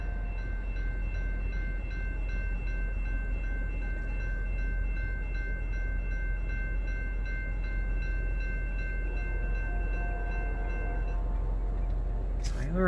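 CN 5661 northbound, the L563 "Woodtick" freight train, arriving at Ladysmith: a steady low rumble of rolling cars with a sustained horn-like tone over it, heard from trackside at moderate level throughout.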